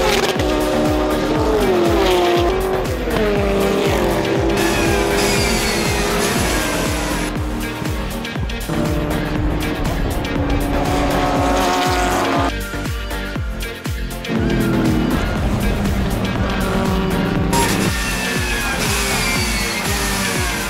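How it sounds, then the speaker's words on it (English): An Audi R8 and an Aston Martin race cars roar through a three-hour endurance race in New Zealand's South Island series, engines loud and continuous, with tires squealing and revs rising and falling through gear changes. "a cat and mouse chase between the Audi R8 with Reid starting and the Aston Martin with Damon Leach at the wheel."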